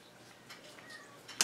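A person's voice imitates a cat's meow: a few faint, thin mewing sounds, then a sharper, louder meow right at the end.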